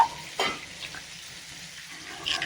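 Tandoori chicken frying over a full flame, a soft steady sizzle with a sharp stir or turn near the start and another scrape at the end, no voices.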